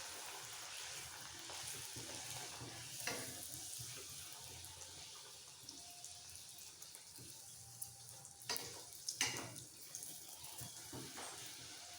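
Luchi frying in hot oil, making a steady soft sizzling hiss with occasional brief pops and spatters, close by and fairly quiet, with no talk.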